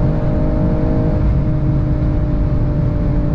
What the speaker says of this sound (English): car revs really high and pops when you shift up.